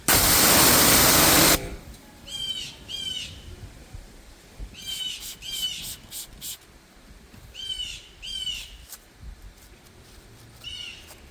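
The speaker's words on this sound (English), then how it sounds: "I got a bird screaming at me." A bird repeatedly lets out sharp, harsh screeching calls in short bursts, with gaps between them, over quiet background hiss after a brief burst of static.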